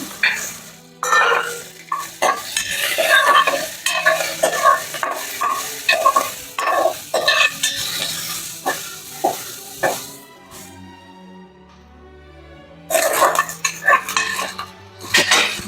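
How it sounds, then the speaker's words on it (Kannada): Green chillies and onions fry in a pan for a mutton curry, with loud sizzling and repeated metal spoon scrapes and clinks as they are stirred, pausing briefly before a fresh burst of stirring. "ಹಸಿಮೆಣಸಿನಕಾಯಿ ಮತ್ತು ಈರುಳ್ಳಿ ಈರುಳ್ಳಿನ ಚೆನ್ನಾಗಿ ಫ್ರೈ ಮಾಡ್ಕೊಳ್ಳೋಣ"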